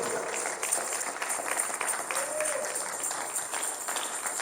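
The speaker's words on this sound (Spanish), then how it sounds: "Dele un aplauso al Señor con todo su corazón." Church congregation applauding during a service, a faint, fairly steady patter of many hands clapping at some distance, with a voice briefly audible over it.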